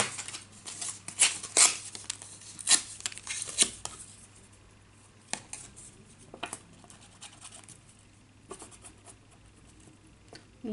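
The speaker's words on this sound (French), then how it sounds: "Pareil, je vais déchirer." Paper is torn into pieces for an art journal, close up, with a cluster of sharp rips and crinkles early on, then sparser, quieter rustles and tears over a faint background hum.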